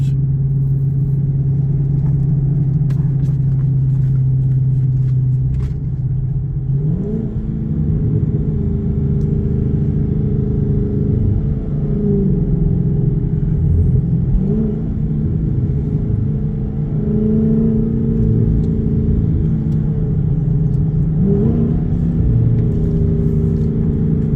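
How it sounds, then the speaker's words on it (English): A loud car engine idling with a deep burbling exhaust, then revving up and settling back several times, the exhaust gurgling and popping as each rev falls away, with no voices. "do we get the pop gurgle, the gurgling out of the exhaust?"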